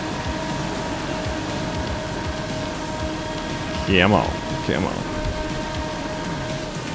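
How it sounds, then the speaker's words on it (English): Heavy rain hisses steadily during a race in the video game Formula Legends, a dense, constant wash of noise, with someone briefly speaking over it midway. "Look at this rain. Oh, man, it doesn't always rain this hard."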